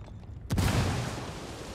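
A frag grenade blast in Ghost Recon Wildlands: one sudden booming explosion after a short quiet lead-in, followed by a long rumbling decay that fades slowly.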